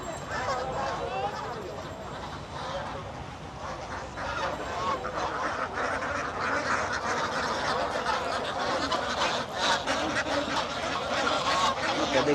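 A crowd of Chinese and Belgian ducks and geese quack and honk continuously nearby at a market, a dense, noisy flock with a voice speaking over them.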